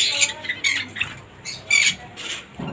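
A newly paired couple of Java sparrows in a breeding setup gives short, bright squawks and chirps in irregular bursts, close by, with faint rustling and patter between calls and no voices.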